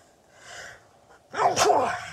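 A short inhaled breath leads into a single loud, explosive sneeze close to the microphone.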